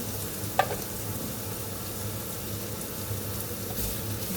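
Butter frying in a pan for fried rice gives a soft, steady sizzle while it is stirred, with one brief clink near the start and no talking.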